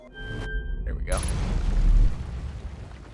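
In the Outer Wilds video game, a gravity cannon launches with a deep booming rumble that swells over a couple of seconds and then fades, following a brief tone, with someone talking around it.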